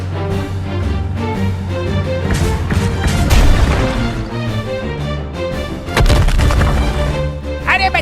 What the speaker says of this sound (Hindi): अरे बचाओ, इसने तो मेरा जेसीबी उड़ा डाला